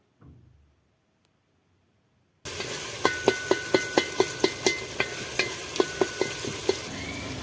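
Tomatoes frying in a pan for a family batch of Maggi noodles, a steady sizzle that starts abruptly after a near-silent opening, with a regular series of sharp spoon stirs and taps against the pan running through it.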